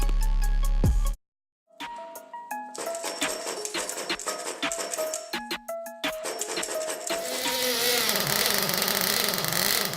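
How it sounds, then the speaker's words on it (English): A small engine sputters and struggles to start, with a brief stop followed by ragged, uneven running and revving that grows steadier and louder toward the end, with no voices. "some clips of me struggling to start a few engines"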